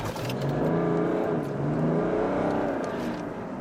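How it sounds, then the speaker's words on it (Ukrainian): A turbocharged car launches from a standing start with its engine pre-spooled, giving a loud, continuous engine roar whose pitch climbs steadily under acceleration, close up and with no talking. "автомобіль поїхав цього разу набагато краще, тому що перед стартом у нас вже був підготовлений, скажімо, такий двигун"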